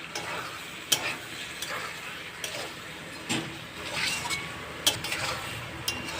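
Tomatoes being stir-fried in spiced oil for a coconut katla fish curry: a steady low sizzle with scraping, clinking stirs at irregular intervals.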